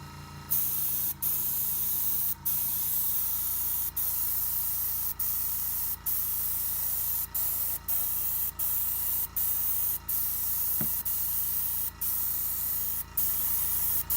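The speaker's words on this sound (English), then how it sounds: "I'm going to use my airbrush and paint this model figure with Tamiya's XF1 Black as its base color" An airbrush sprays Tamiya XF1 black paint onto a plastic model figure, giving a steady close hiss that runs throughout and is broken only by brief pauses in the spray, with no voices.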